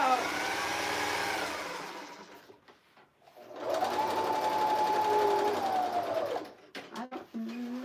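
A sewing machine runs in sustained bursts, its motor whining steadily and shifting in pitch, stopping briefly between runs while voices speak nearby.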